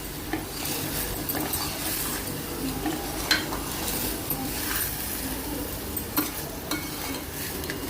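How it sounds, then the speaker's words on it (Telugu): Basmati rice and masala stirred together in a hot pan over a medium flame, with a soft continuous sizzle and scraping, and occasional clinks of a spoon against the pan. "అంతా కలిసేలాగా మసాలా అంతా కలుపుకోవాలి. ఒక 5 నిమిషాలు ఇలా వేడి మీదే ఉంచాలి బియ్యం."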